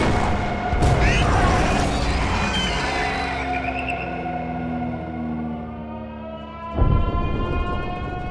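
A heavy boom of a cannon shot opens, followed by a rumbling tail and droning engine-like tones, with a second thump near the end.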